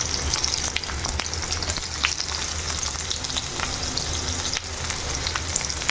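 Onion fries in coconut oil with a continuous loud hiss and sizzle, scattered crackles and the occasional scrape of stirring, heard up close without talk.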